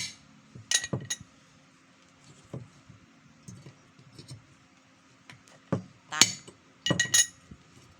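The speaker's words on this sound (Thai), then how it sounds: "อย่าตอกเพลินนะเดี๋ยวมันจะไปทะลุ ใส่เหล็กขาด" Metal hammer strikes on the shaft of a steam fan motor, sharp clinking taps in small clusters of two or three with quiet gaps between, fairly close and not under any talk.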